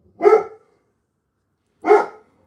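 Two separate loud dog barks, close by, about a second and a half apart with silence between.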